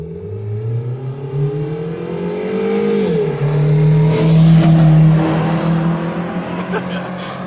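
A modified car engine revs hard while driving, its pitch climbing and dipping through gear changes with loud, sustained roar throughout; tire noise and faint voices sit underneath.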